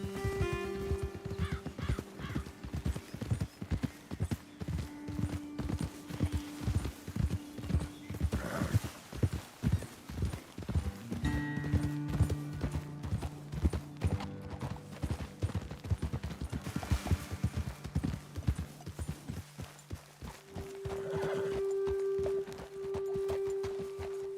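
Horses in Red Dead Redemption 2 walk in steady, clear clip-clopping hoofbeats that come close and loud, with whinnies breaking in and brief pauses between stretches of steps.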